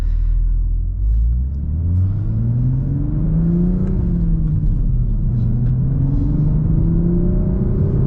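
A manual MK5 Toyota Supra's engine revs up and down through gear changes with a steady low rumble, road noise droning underneath; no one speaks.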